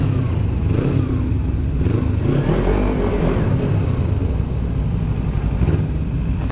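Motorcycle engine revving loudly and close in a shopping mall parking area in Sorocaba, a steady rumbling roar that swells mid-clip, with traffic clatter around it and no talk.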